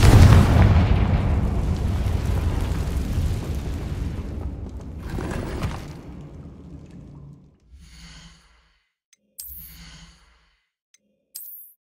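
A Confringo blasting spell explodes in Hogwarts Legacy inside an abandoned cave, a loud deep boom that rolls into a long fading rumble, followed by a few faint magical chimes and shimmering tones.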